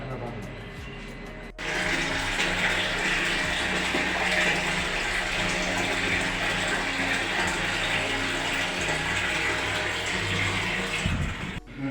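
Water gushes steadily from a solar water pump outlet after a sudden start, a constant loud splashing rush with a faint mechanical hum beneath.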